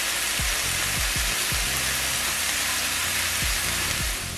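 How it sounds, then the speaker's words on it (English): A pan steadily sizzles and crackles while sauteing for a salmon pasta, a dense close hiss broken by occasional low knocks of the pan or spoon. "So I'm gonna allow this to saute for about 3 minutes."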